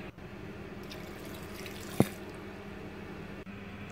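Water runs steadily from a tap or into a cooking pot in a home kitchen while chow chow kootu is prepared, a continuous close splashing flow with one brief clink partway through.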